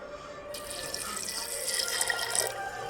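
Water pours steadily into washed cowpeas in a pressure cooker, a bright, continuous splashing stream that starts after a brief quiet moment and runs to the end, close by with no talking.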